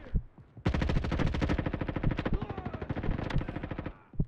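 Rapid automatic gunfire in a free first-person shooter game, a dense near-continuous burst of shots with a few separate pops before it, loud and up close.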